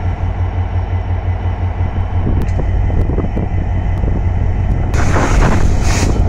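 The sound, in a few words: train departing Joydevpur station for Dhaka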